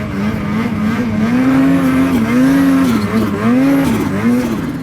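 A 2021 Ski-Doo Summit Expert 850 Turbo snowmobile accelerates, its loud, close engine tone rising and falling steadily as the revs swell and dip, with no talk.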